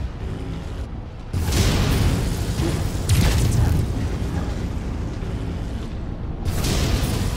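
Heavy autocannon bursts from a Banshee mech armed with AC5 Ultra autocannons in MechWarrior 5: Mercenaries, booming in loud repeated volleys over a dense mechanical battle din.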